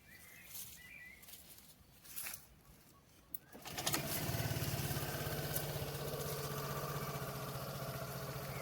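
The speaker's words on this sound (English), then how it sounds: "I will start the engine so you can see" A scooter engine turns over about halfway through and settles into a steady, fairly loud idle, following a quiet stretch of outdoor ambience with birds.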